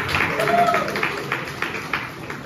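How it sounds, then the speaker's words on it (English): A small audience claps at a comedy-style talk about food delivery driving, scattered and uneven hand claps of moderate loudness with some voices murmuring underneath. "Clap so it's not quiet while I change the page."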